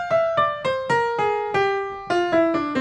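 A descending run of single piano notes forms a diminished whole tone scale in a bebop jazz lesson, about nine evenly spaced, clearly struck tones, close and alone with no talking.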